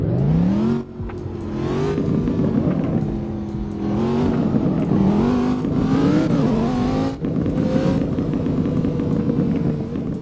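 A simulated car engine in the Roblox game Southwest Florida revs hard and climbs through several gear shifts, a loud, steady drone with rising pitch sweeps and short dips between shifts, heard alone without talk.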